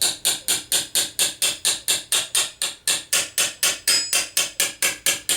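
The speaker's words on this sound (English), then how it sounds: "You just take your hammer, whichever one you got" Steel gothic gauntlet backplate hammered over the rounded edge of an anvil: about twenty-two steady, evenly spaced ringing metallic blows at a brisk rhythm, close and loud, with no talking.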